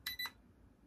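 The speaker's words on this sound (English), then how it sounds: "That's the alarm." A digital alarm clock gives two quick high electronic beeps close by, then falls silent.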